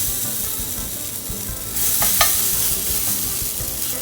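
Cachapa batter poured into the middle of a hot oiled pan: a steady broadband sizzle jumps louder at the pour, with a couple of sharp spoon clicks as the batter hits the oil. No voices.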